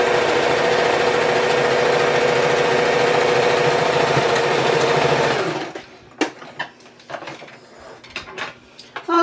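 A sewing machine stitches pocket fabric onto a tote bag, whirring loud and steady for several seconds, then stopping, followed by light handling clicks and fabric rustles.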